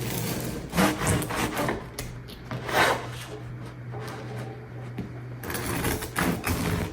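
A knife saws through a half loaf of sourdough bread held flat, giving repeated close scraping strokes against the crust, with brief pauses between strokes.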